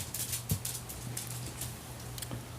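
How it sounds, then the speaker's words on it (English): Light rain patters steadily outdoors on a mild spring day, a soft continuous hiss of drops with a few faint ticks, no voices, quiet and even throughout. "it's currently raining on this 2nd of May 2019"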